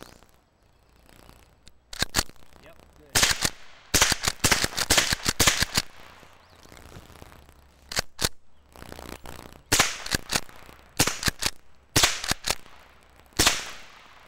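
Rapid rifle fire from a self-loading Ruger Mini 14, a long run of sharp, loud cracks in quick irregular bursts, with short gaps between strings of shots.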